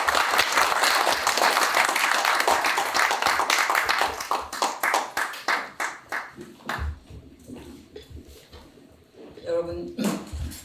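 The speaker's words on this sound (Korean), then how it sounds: "큰 박수로 맞아주시기 바랍니다" A lecture-hall audience gives loud, dense applause to welcome an emeritus history professor to a forum stage, the clapping fading after about six seconds into scattered claps and room noise.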